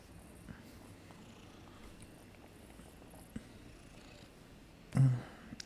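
A pet cat purring softly and steadily close by, a low quiet rumble, ending in a sudden louder scratch or thump near the end.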